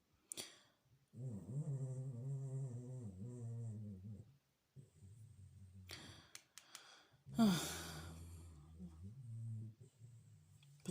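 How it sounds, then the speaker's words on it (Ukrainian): Dogs snore and sigh nearby in slow, rumbling breaths, several drawn-out wheezy exhales separated by short pauses. "Посторонні звуки вибачайте, мене тут собаки хроплять."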